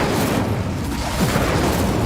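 Incendio fire spell cast in the video game Hogwarts Legacy, a loud, steady whooshing roar of flame with booming low rumble that fills the whole moment without pause.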